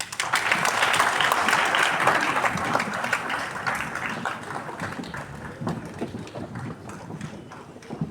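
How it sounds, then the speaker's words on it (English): An audience at a colloquium claps continuously, loud and dense at first, then thinning and softening toward the end as individual claps stand out. "Let's keep clapping"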